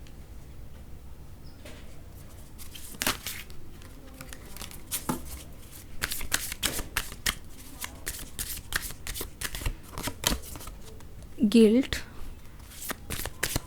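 A deck of cards is shuffled and drawn from during a card reading: continuous close riffling and flicking with sharp snaps throughout, while a person talks intermittently over it.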